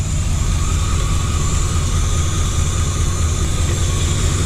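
A 1979 Chevy C10 big-block 454 idles close by with a steady, deep, droning rumble that never varies, and no voices can be heard.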